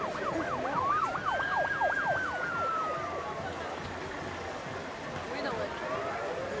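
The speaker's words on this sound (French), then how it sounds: "des coups de feu, des sirènes." Emergency vehicle sirens in a street in Molenbeek, Brussels, a wailing siren sweeping up and down over street noise, with another sustained siren tone alongside and a fainter siren later on.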